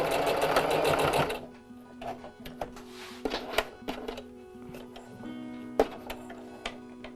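A sewing machine runs in a loud continuous burst stitching a straight line down a fabric face mask, then stops, followed by scattered ticks and clicks of adjusting the machine and material.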